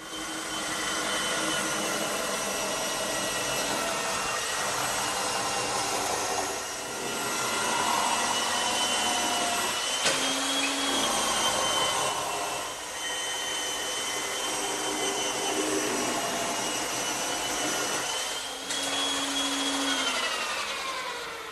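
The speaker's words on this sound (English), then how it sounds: "when I set the blank over this, turn on the saw and spin it around" A table saw blade cuts a circular wooden tabletop blank spun around on a pivot jig, giving a steady loud whine of saw and shop vacuum throughout, with brief dips where the blank is repositioned.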